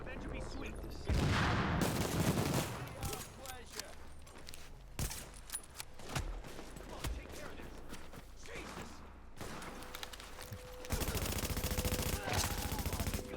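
Nine-mile pistol shots in The Division, sharp cracks fired in scattered rapid bursts amid mechanical clatter and a busy combat mix, with a dense sustained burst near the end.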